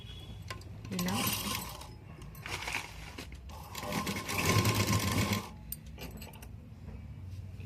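A sewing machine stitching the neck of a school uniform, running in several short rattling bursts of rapid needle chatter with brief pauses and small clinks between them.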